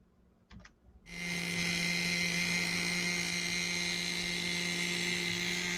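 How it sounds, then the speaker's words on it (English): A small two-stroke helicopter engine starts after a few faint knocks, then holds a loud, steady, high-pitched whine. "Yes, Margaret, there used to be 2-stroke helicopters."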